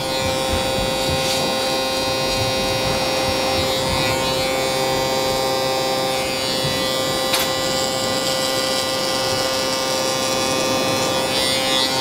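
An electric hair clipper trims a burst fade haircut, giving a continuous close buzzing hum that holds steady throughout, with faint rustling but no talk.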